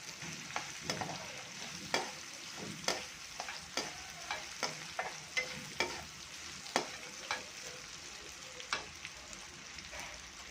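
Chopped green chillies, ginger and coconut fry in a pan, giving a low background sizzle broken by repeated sharp scrapes and clacks of a spoon stirring, about one every half second to a second.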